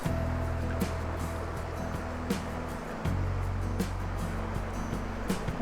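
Steady rushing of Goose Creek flowing over rocks beside a campground in Wenatchee National Forest, Washington, broad and continuous throughout, with a low engine-like hum underneath.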